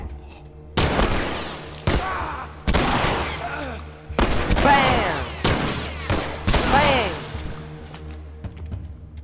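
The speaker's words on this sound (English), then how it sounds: "Revolverskott." Gunfire in The Last of Us: a series of sharp, loud shots, roughly six, spaced about a second apart, each with a ringing tail, voices talking faintly under them.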